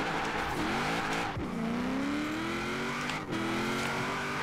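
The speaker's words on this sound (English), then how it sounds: "the car already keeps in a drift without doing much" A car drifts in Forza Horizon 4 at night, its engine droning loud and steady while tires squeal in long sliding tones, with a couple of brief shifts in pitch.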